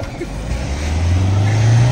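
A Scorpio N's tyres spin and skid on snow while its engine revs, a close, loud motor drone rising in pitch over a rough roar of wheelspin.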